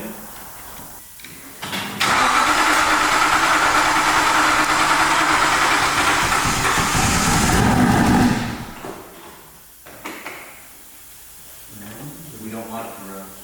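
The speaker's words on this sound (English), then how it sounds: "Crank it again." Crashed Aston Martin Vantage being cranked, a loud continuous whirring crank that starts abruptly and runs about six seconds before cutting off, with a voice speaking before and after.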